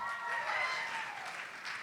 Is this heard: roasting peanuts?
no